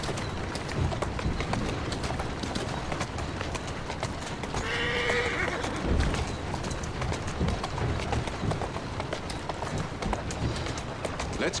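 Horse hooves clip-clopping steadily in the Assassin's Creed Syndicate video game, a continuous rhythmic trot with a brief whinny partway through, heard without speech.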